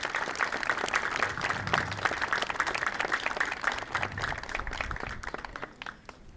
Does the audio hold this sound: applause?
yes